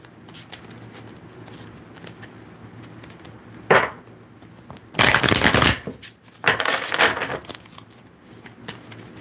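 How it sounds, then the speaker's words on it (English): Tarot energy cards being shuffled by hand, soft riffling and flicking at first, then a few louder bursts of card riffles, close up in a quiet room. "So let me shuffle these energy cards real quick."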